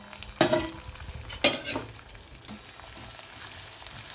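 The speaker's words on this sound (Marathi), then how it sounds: "कोथिंबीर देखील टाकली, ती पण छान तडतडती आहे बघा." Coriander leaves fried in hot oil for poha chivda crackle in the pan, with two loud bursts of sizzling and stirring clatter, then a single knock and a fading, quieter fry.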